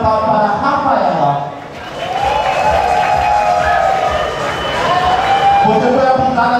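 Audience at a Brazilian comedy show applauding and cheering, a loud dense crowd roar that dips briefly and then swells again, with voices shouting over it throughout.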